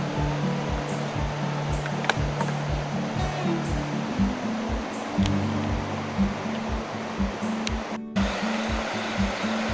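Low river water rushes steadily over rapids along the Allegheny Trail, a dense continuous hiss with a rhythmic low thumping beneath it and a few faint clicks, heard without talk.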